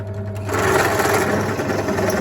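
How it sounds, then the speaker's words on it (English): A power drill running continuously with a larger bit, countersinking and cleaning up holes in a homemade cat silhouette bird scare, a steady whirring motor close by with no talk. "I'm just going to use a larger bit just to clean up the holes and also give it a little bit of countersink."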